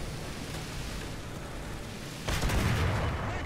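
Distant Russian machine-gun fire in War Thunder rolls in as a dense crackling burst partway through, over a steady low rumble of tank engine noise, with no talk.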